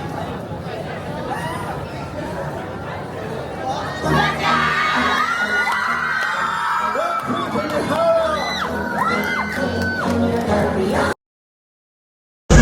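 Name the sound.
crowd applause and cheering for a stage performance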